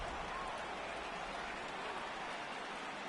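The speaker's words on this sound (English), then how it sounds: "the conditions aren't ideal with the rain coming down" Steady rain falls on a wet ballpark during a video game baseball broadcast: a soft, even, continuous hiss of drops at low level with no clear voices.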